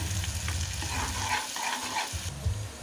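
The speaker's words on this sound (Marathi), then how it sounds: "ते टाकून द्यायचं आणि ह्याला पण चांगलं हलवून घ्यायचं, एक जीव करून घ्यायचं चांगलंपैकी।" Onions and a green ground masala paste fry in oil while being stirred, giving a close, busy sizzle with scraping and thumping stirs underneath. No voices.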